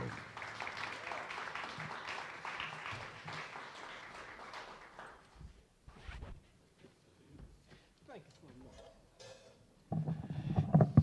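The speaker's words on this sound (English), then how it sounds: "How about another round of applause for Oliver Ragsdale?" Audience applause for Oliver Ragsdale at a jazz orchestra concert, a broad wash of clapping for the first five seconds that thins into scattered claps and murmurs, with a louder burst of sound returning near the end.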